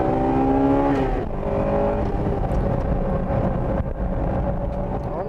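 A Honda Integra Type R engine revs and pulls hard through a corner on a track, a loud close in-car whine that drops pitch at a shift, then climbs steadily again.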